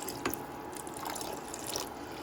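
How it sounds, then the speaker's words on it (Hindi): Water poured from a cup into a pot of lasagna soup, a short broadband splashing trickle at close range with a few brief louder bursts, no voices. "क्योंकि हमें इसे सूपी बनाना है तो इसमें थोड़ा सा पानी ऐड करेंगे"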